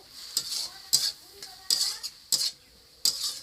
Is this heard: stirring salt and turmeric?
yes